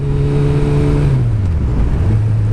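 Steady engine drone of a motorcycle on the move, with the pitch dropping as it shifts down, constant road and wind rumble throughout.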